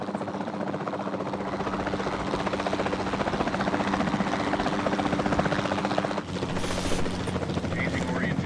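Capture team helicopter in the video game Jurassic World Evolution 2, a steady whirring rotor drone heard continuously and fairly loud, with a brief interruption near the end and game sounds mixed in.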